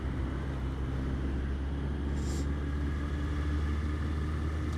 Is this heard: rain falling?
no